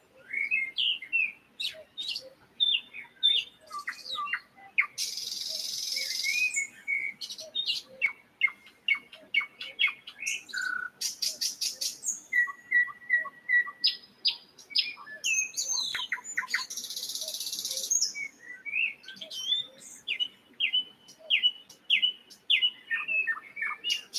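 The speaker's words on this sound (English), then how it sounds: "Let's listen to the birds and the peaceful sounds." Several birds chirp and sing in quick, bright bursts of tweets, whistles and trills, close and clear, with some harsher squawks, near an Amish barn sale in the morning.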